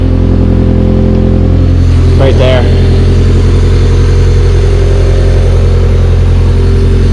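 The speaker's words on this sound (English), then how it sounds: "That exhaust sounds good." A Honda Civic with a freshly swapped engine idles loudly through its exhaust in a steady, deep drone close to the microphone, while a person briefly speaks over it.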